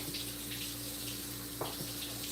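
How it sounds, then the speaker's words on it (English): Hot water running from a kitchen tap, a steady loud hiss of flowing water with a steady low hum beneath and a brief clatter partway through, no talk. "let me try to run it under some hot water, see if that works"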